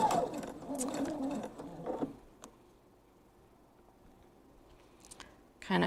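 A sewing machine stitches forward along a thread catcher seam, whirring steadily for about two seconds before going quiet, then starting again briefly at the end.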